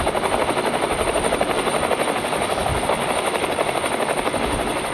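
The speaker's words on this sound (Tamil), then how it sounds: "இங்கே வந்து ரெக்கவரின்னு அது கொடுத்தீங்கன்னா ஒரு ஹெலிகாப்டரு அப்படியா அவ்வளோ கிராஃபிக்ஸோடு இருக்கும் இந்த கேமு." A recovery helicopter in a car video game chops steadily, its loud, even rotor thump and whine running alone throughout.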